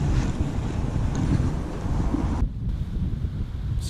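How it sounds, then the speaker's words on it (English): Strong wind roars steadily across the microphone on a fishing trip at sea, a loud continuous buffeting with a brief lull partway through and no talking. "It's freaking windy, bro."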